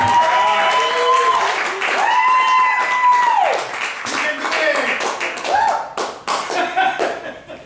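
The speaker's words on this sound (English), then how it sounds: "give him a round of applause" Audience applause for comedian Dillon Collins at The Hot Show 2018 comedy night in Chico, California: steady, dense clapping with whoops and whistles, talk running over it, the clapping thinning into scattered claps near the end.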